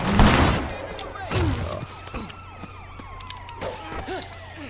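Gunfire rattles in Grand Theft Auto IV, with a loud burst of shots up front, then scattered pops under wailing police sirens that sweep up and down in the game's street chaos.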